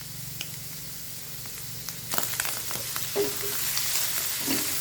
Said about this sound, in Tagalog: tayo mag-fried ng ating pang sizzling mushroom